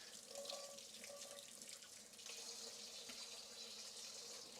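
Water runs steadily from a kitchen sink tap as beef bones are rinsed and rewashed, a continuous quiet splashing stream with faint clinks of handling in the basin.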